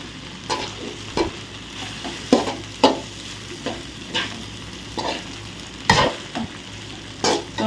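Vermicelli and egg are stirred in a hot pan: repeated scraping strokes in an uneven rhythm sound over a continuous close sizzle.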